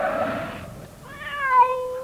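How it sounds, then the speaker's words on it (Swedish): A cat meows once, a drawn-out wavering cry that rises and bends in pitch after a brief noisy rustle, close by and fairly loud, with no talking. "Och katten jamar till."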